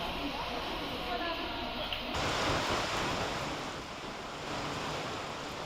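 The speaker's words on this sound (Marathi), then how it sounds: "मुंबईमध्ये मुसळधार पाऊस सुरू आहे" Heavy monsoon rain pours down in Mumbai as a dense, steady roaring hiss, loud and continuous, with a brief shift in texture partway through.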